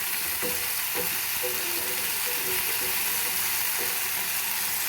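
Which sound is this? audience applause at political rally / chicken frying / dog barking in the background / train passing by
chicken frying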